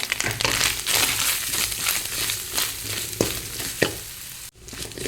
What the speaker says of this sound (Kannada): ಅದನ್ನು ತುರಿದಿಟ್ಕೊಂಡಿದ್ದೇನೆ ಅದು ಹಾಕ್ತೇನೆ ಹಾಕೊಂಡು ಸ್ವಲ್ಪ ಫ್ರೈ ಮಾಡ್ಕೊಳ್ಳುವ